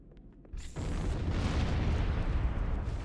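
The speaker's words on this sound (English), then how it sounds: "Never mind, there are explosions today." Video game explosions in a combat shooter: after a quiet start, a loud sustained roar of blasts and rumble kicks in and continues thickly to the end, with no talk over it.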